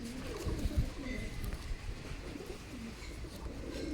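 Small pigeons of an old line give low, throaty coos in repeated rolling phrases, fairly close and soft over a muffled indoor background.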